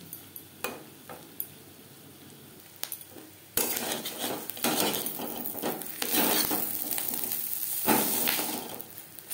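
Fish roe frying in a pan over a low-medium flame: faint scrapes and taps at first, then a louder sustained sizzle with repeated utensil scrapes and clinks as the roe is turned.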